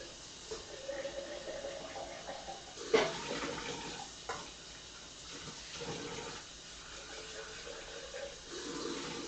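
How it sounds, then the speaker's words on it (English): Tap water runs steadily while glass Classico and Atlas mason jars are rinsed out, a close, continuous splashing and trickling with a few brief clinks and knocks of glass along the way. "First things first, just going to rinse out the jars."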